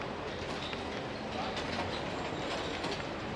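A train at a railway platform in Italy, with a steady rumble of rolling wagons and faint clickety-clack and metallic squeal, continuous and moderately distant, with no voices.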